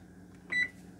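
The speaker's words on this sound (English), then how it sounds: "Alright, our timer's gone off." A kitchen timer goes off in a home kitchen while a fruit cobbler bakes in the oven, giving a single short, clear electronic beep over quiet room tone.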